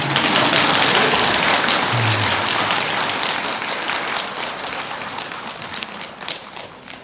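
An audience at a Buddhist dharma talk breaks into sustained, dense clapping, loud at first and then gradually thinning and fading over about seven seconds, with no speech over it.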